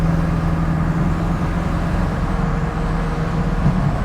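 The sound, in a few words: 1968 Mustang GT with a 390 big block engine, driving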